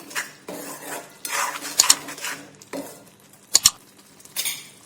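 A spoon scrapes and knocks around a metal pot of vegetable shaak curry, with soft stirring swishes and two sharp clinks against the rim, close and alone.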